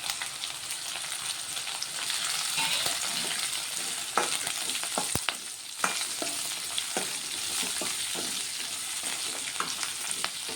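Garlic, cumin seeds and green chillies fry in a pan, giving a continuous gentle sizzle with scattered crackles and small pops, fairly quiet and close, with no talking.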